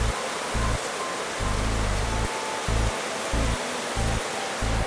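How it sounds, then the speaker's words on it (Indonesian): Heavy rain pours down steadily as a dense, continuous wash of noise, with a low rhythmic thumping repeating underneath throughout and no talk. "Hujannya deras banget."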